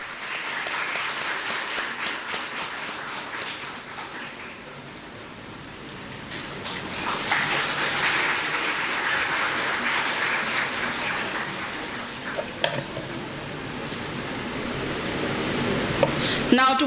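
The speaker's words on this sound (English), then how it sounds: "Can we have a huge round of applause for sir?" Audience applause at the inauguration of a faculty development program on blockchain technology, welcoming a guest with a bouquet. Broad, steady clapping rises after a quieter start and carries on throughout, with murmured voices underneath.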